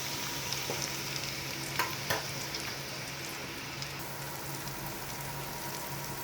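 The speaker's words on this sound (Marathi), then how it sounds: "अशा प्रकारे हा आपण कांदा परतून घेतलेला आहे" Onion and tomato sautéing in a pan for a green bean (farasbi) vegetable dish, a steady close sizzle with scraping stirs of a spoon throughout, no talking.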